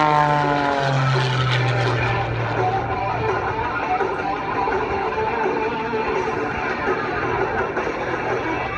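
A small MX-2 aerobatic airplane flies a display at the 2015 Salute America Airshow, its propeller engine droning steadily and loudly throughout, with a falling pitch early on as it passes, while an announcer talks over it.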